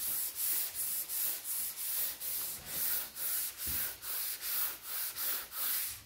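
Block sanding PPG CRE321 high-build epoxy primer on a Cadillac Coupe DeVille body gives steady, rhythmic rasping strokes, about two per second, a close, even scratchy rubbing that continues without pause and with no voices.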